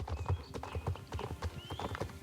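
Galloping hooves of a horse ridden in Star Stable Online clop in a quick steady rhythm, with a couple of faint whinnies and chimes over the hoofbeats and quiet background game music.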